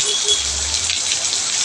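Dense, steady downpour hisses loudly and evenly, with a faint low rumble briefly underneath.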